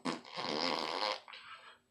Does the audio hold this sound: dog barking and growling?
no